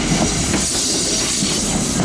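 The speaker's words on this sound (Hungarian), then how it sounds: "Sírnak a vágányok, mert olyan szinten el van használódva" A train rolls past on worn tracks at a Budapest rail yard. There is a loud, continuous roar with rumbling wheels, hiss and a metallic screech, close by and steady throughout.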